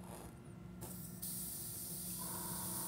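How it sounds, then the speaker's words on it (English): An airbrush sprays light gray paint over base toppers, a steady close hiss of air and paint that runs continuously, briefly dropping then resuming louder and holding even to the end. "we're gonna be using an airbrush instead of rattle cans"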